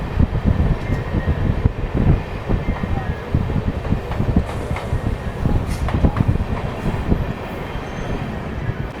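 The Howrah–Rampurhat Sahid Express, a new LHB rake, rolls along steadily with continuous loud rumbling, clattering wheel beats and wind rush throughout, recorded close from on board.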